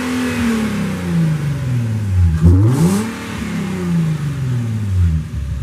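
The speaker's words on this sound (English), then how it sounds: "Let's see how the intake sounds." An Infiniti G37 sedan with a cold air intake revs up and down, the engine rising sharply to a peak midway and then settling back toward idle, loud and close with no talking.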